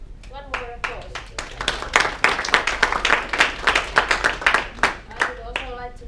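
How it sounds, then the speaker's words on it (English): An audience at a university healthcare technology course session claps briefly in a small room, with distinct individual claps building, then fading. Voices speak briefly at the start and end. "So one more applause."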